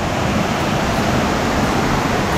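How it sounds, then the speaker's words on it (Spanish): Broad, steady roar of a waterfall cascade on a scenic mountain trail near Santo Domingo, continuous and fairly loud with no voices. "Cuarta cascada que encontramos en esta espectacular ruta."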